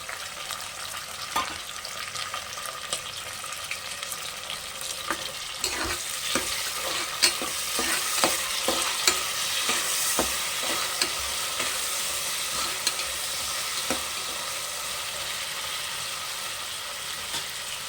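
Onions and peas frying in oil in a pan for vegetable pulao, a steady sizzle with scattered stirring clatters and scrapes close by, no voices.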